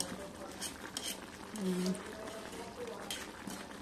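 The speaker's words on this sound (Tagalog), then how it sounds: "Kulo-kulo naman siya sa gilid." Stew simmering in a covered pot with its broth reduced, a soft continuous bubbling and gentle patter, quiet and close, with a faint voice in the background.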